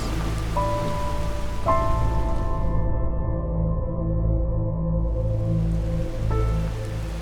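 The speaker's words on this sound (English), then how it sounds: "it is still raining. In fact, it's raining even harder, I think." Steady rain falls in the video game Enderal, a Skyrim mod, as a soft, constant patter over a low ambient musical drone with sustained tones.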